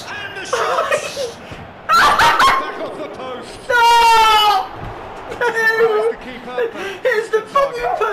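A real dog barks and yips in short loud bursts in a room where people shout and laugh over a PES 2018 online co-op match, with the barks mixed in among the voices.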